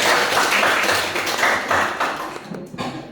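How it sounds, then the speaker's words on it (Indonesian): A group claps hands together to start an elephant-and-ant game, producing a dense, steady burst of close applause that runs for about three seconds before thinning out at the end. "tepuk tangan dulu untuk mulai"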